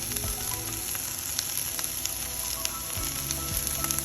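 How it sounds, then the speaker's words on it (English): Cabbage and onion sauté in a hot pan with a steady, close sizzle and crackle, with a few faint clicks of stirring along the way. "And I will saute that for a little bit so it softens it up."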